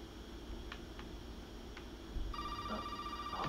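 A telephone in the Resident Evil 7 horror video game rings with a steady electronic tone that starts partway through, clear over a low ambient hum.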